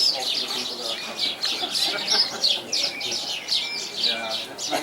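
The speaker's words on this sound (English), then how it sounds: "even the birds are here" Birds chirp and tweet in the Garden Tomb, a steady chorus of bright, repeated calls close by, with a fowl-like cluck mixed in and constant outdoor background.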